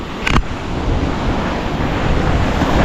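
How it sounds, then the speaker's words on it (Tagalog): Sea waves wash steadily onto a littered shore patrolled by coast guard boats, a continuous loud surf roar with heavy wind buffeting the microphone and one brief sharp gust near the start. "Ayan ang alon."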